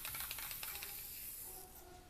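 An aerosol spray paint can hisses in a few short bursts while coating a homemade airsoft suppressor for a large rifle, a faint close airy spray that tapers off.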